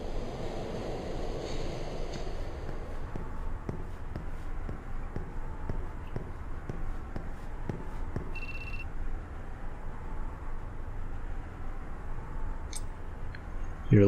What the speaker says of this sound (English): Please do not rush onto the train. The door is now closing.